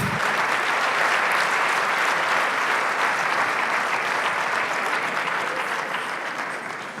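A crowd at a women's summit awards event claps loudly and continuously, a dense, steady applause that tapers off slightly near the end.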